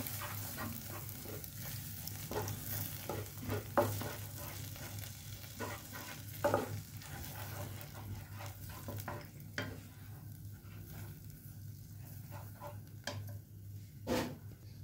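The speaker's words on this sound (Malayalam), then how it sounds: "മുട്ടയിങ്ങനെ ഒഴിച്ചു കൊടുക്കാം. ഇളക്കിക്കൊണ്ടിരിക്കണം. ലോ ഫ്ലെയിമിൽ വെക്കണം." Egg bhurji stirred in a pan over a low flame: a soft, steady sizzle with scattered scrapes and taps of the spoon, fairly quiet and without voices.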